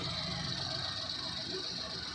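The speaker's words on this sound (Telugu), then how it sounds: "చూడండి ఇంజిన్ ఏమో మెత్తగా ఆడిద్ది" A Suzuki Alto 800 car engine idles smoothly with a low, even hum, faint and steady throughout.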